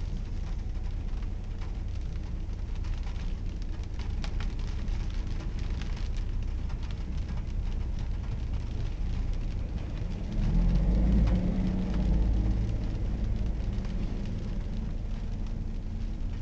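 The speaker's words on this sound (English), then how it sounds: "Here comes the rain." Steady rain falls continuously during a derecho storm in Watertown, South Dakota, with a low rumble of thunder rolling in partway through.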